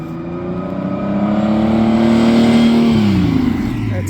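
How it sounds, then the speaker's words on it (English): Lamborghini Countach engine revving hard and loud, pitch climbing over a few seconds then dropping off as the revs fall, close by at an outdoor car show. "Lamborghini Countach."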